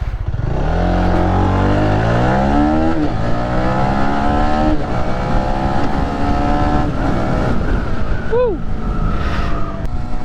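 A Honda RS-X motorcycle engine revs and accelerates steadily, pitch climbing through gear changes, loud and close, with brief voice sounds near the end.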